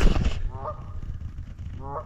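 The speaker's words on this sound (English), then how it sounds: "I got a goose. Oh, this is not good. He's in my foothold trap." A goose caught in a foothold trap honks loudly and nearby, with a burst of harsh calls and thrashing at the start, then two more nasal honks spaced apart over a quiet background.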